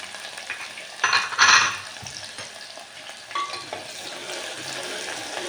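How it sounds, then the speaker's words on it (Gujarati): Onions sautéing in a pan with whole spices (cinnamon, cloves, pepper, star anise, bay leaf) for Kathiyawadi-style veg yakhni pulao, a steady close sizzle with a couple of louder stirring bursts. "ડુંગળી બ્રાઉન કલરની થાય ને ત્યાં સુધી એને સાતળવાની."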